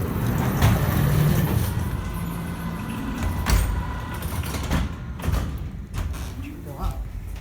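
An Otis/Lins traction freight elevator door closes in an old building, a long low rumbling slide with clanks and thumps, loud and close amid steady mechanical noise.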